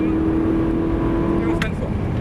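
Ferrari 458 Italia engine on the Nogaro track, a continuous loud engine roar with a steady tone under an instructor's talk, fading slightly near the end.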